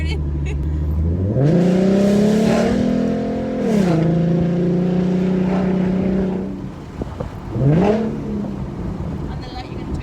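A car engine fitted with BBK shorty headers revs repeatedly, its deep V8-like exhaust rising and falling in several strong pulls, close and loud, with people talking in the background.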